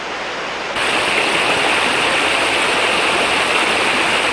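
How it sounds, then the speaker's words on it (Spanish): Waterfalls and cascades in a forested land, water rushing from heights over rocks as a steady broadband roar that swells louder after a moment and holds constant, with no voices. "Esta es una tierra de hermosas cataratas y cascadas."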